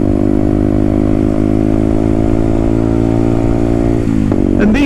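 A Herald Maverick 125cc motorcycle, also sold as the Bullet Hero 125, runs at a steady loud single-cylinder drone while being ridden, then the revs drop and pick back up near the end.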